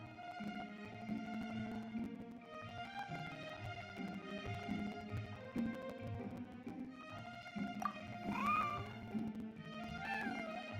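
A cat in the video game Genshin Impact meows repeatedly in a series of clear, fairly close calls that rise and fall in pitch, with no talk over them.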